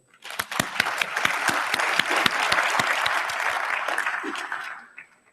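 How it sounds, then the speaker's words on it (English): Audience applause at a graduation ceremony, a large crowd clapping in a full, even roar that swells in quickly, holds steady for about four seconds, then fades out, with no voices over it. "I think you should also give them a round of applause"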